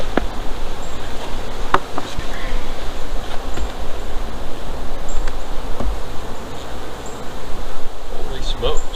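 Honeybees hum from an opened beehive, a steady dense buzzing drone close to the microphone with light wind noise and occasional louder passes of individual bees.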